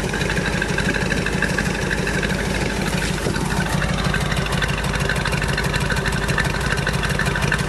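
A vehicle engine running steadily after being cranked, a loud, continuous, even idle rumble with no voices over it.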